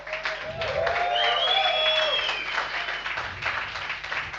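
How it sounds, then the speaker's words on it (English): Audience applause at a coding bootcamp demo day in Lisbon, steady clapping from a crowd with whoops and cheers rising over it, sustained and fairly close. "Can we get a round of applause?"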